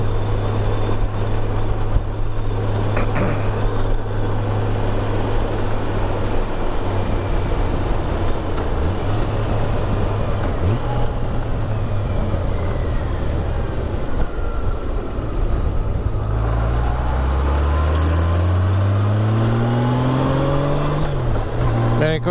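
A Honda GL1800 Goldwing motorcycle rides along near a lakeside hydro plant, its engine droning steadily and loudly throughout with rising and falling pitch as it shifts and changes speed, plus wind rush.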